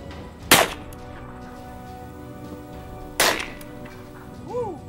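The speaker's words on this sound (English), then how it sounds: "357 Magnum. Fired out of a Smith & Wesson 686 Pro Series." Two sharp, loud gunshots from a .357 Magnum revolver, a Smith & Wesson 686 Pro Series, fired a few seconds apart, each a broadband crack with a short decay; a brief voice follows at the end.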